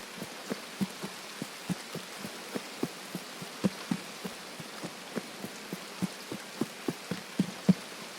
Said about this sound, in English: Raining, can't hear shit.